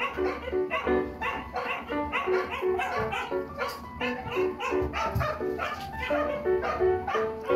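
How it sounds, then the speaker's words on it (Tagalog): Several dogs bark noisily and repeatedly at a passing horse, dense overlapping yaps and yips close by, loud and continuous throughout. "kaya maingay aking mga aso"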